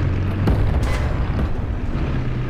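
In a tank video game, a StuG's gun fire destroys an ARL-44, heard as a deep, loud rumbling boom with a sharp report and a sustained low roar.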